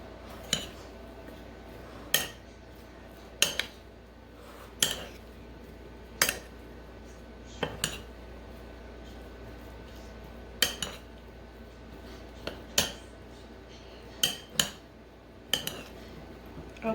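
Strawberry and raspberry cobbler ingredients being mixed in a bowl, with a faint ambient hush punctuated by about a dozen sharp spoon-on-bowl clinks at an irregular, unhurried pace, no speech.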